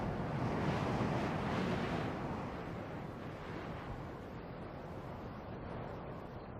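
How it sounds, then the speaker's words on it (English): Desert wind sweeping down from the Andes across the Atacama roars in a broad steady rush, strongest at first and then easing slightly into a constant blustery hiss with no voices. "The spell of silence is broken by air that sweeps down from the Andes."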